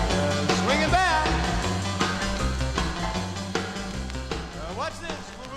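A 1959 Mercury 45 spins on a vinyl record player: a full, steady rock and roll band groove with boogie-style guitar and vocals, playing loud and continuous throughout.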